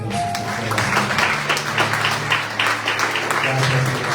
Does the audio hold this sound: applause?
yes